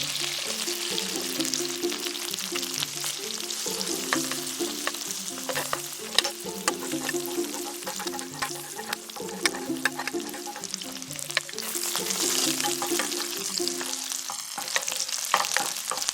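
Butter and garlic sizzle loudly in a pan alongside pork belly, a dense continuous crackle and spatter with a low rhythmic scraping underneath, close and steady with no talking.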